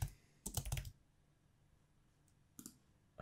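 Bursts of rapid keystrokes on a computer keyboard during software setup, a quick flurry of clicking taps followed by a pause and a second short burst, close and clear in a quiet room.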